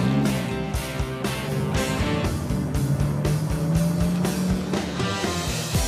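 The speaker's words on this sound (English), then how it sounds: "This car will go 210, 220 miles per hour." A Ferrari sports car drives in a steady, loud engine drone with repeated rhythmic revving surges and gear-change pulses, heard up close and alone with no talk.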